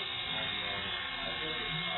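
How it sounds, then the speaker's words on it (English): An electric hair clipper cuts hair over a comb, giving a steady, close buzz that runs the whole time while a person talks over it. "The clipper can travel to the left or to the right"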